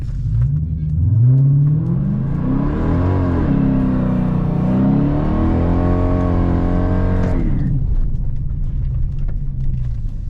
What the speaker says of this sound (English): I just did a burnout.